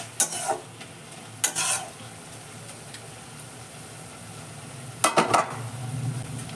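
Malabar spinach greens fry in a pan with a soft, steady sizzle, broken by three bursts of spatula scraping and stirring against the pan, the last a cluster of rapid strokes.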